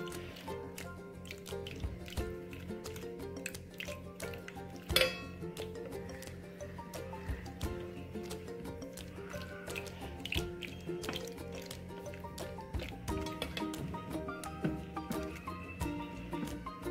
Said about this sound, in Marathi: आता रवीच्या साहाय्याने आपण हे चांगलं असं फेटून घ्यायचं।